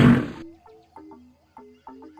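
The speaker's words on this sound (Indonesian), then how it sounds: "Lion." A lion's roar in a short burst, loud and close, followed by a few quieter grunting calls with gaps between them and no talk.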